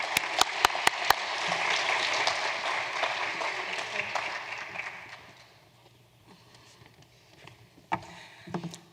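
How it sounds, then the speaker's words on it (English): An audience at a high school art show, the annual superintendent's exhibition, bursts into loud applause that holds for several seconds and then fades into a quieter room with sparse sounds and a voice. "So a round of applause for Lillian's work."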